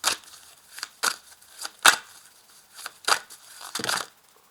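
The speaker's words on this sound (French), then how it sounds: "Ah, j'ai plus de cartes qui sont tombées." Tarot de Marseille cards slipping and dropping onto a table, a series of short papery slaps and rustles spaced irregularly, close and fairly crisp, with no talking.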